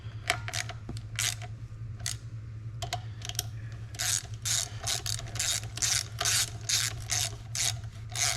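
A ratchet snugs down bolts on the torque ball of a 1958 Buick Special with Dynaflow, giving bursts of quick, close clicking strokes, sparse at first and then a steady run of repeated ratcheting over a low hum.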